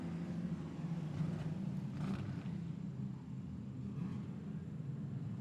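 Race cars on the Kingaroy Speedway track during an A-Main, a steady low engine rumble and roar from somewhat distant cars, with no talk over it.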